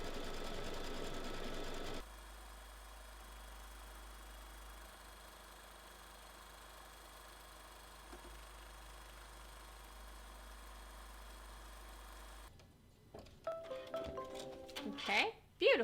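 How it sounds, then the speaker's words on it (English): An embroidery machine sews the tack-down line during a Kimberbell minky and cork project, giving a steady mechanical whir and low hum for about ten seconds before stopping, followed by soft handling noises. "So now it's wanting to do the tack down line for where I need to put my fabric down."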